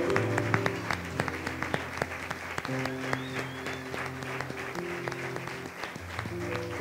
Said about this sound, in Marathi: एकदा टाळ्या वाजवूयात, वराबद्दल टाळ्या वाजवूयात, वधूबद्दल टाळ्या वाजवूयात